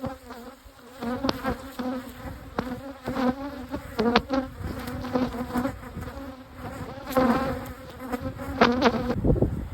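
Honey bees buzz around a beehive in a loud, close drone that swells and fades as individual bees pass near, with several overlapping wingbeat tones.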